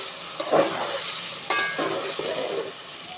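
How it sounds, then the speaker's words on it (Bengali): Chopped potatoes frying with onion and turmeric in a pan, giving a steady close sizzle with two louder bursts of stirring, and no voices. "আলু কুচিগুলো হালকা ভেজে নিব পেঁয়াজের সাথে"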